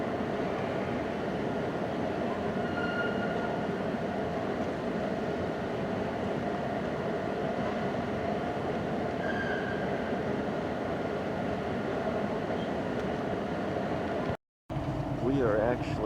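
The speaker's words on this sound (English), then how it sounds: "We are actually passing a Ashburn-bound WMATA train." Ashburn-bound WMATA metro train passing alongside, heard from inside a moving train as a steady loud rumble and rail roar with faint wheel squeals, ending in a brief cutout.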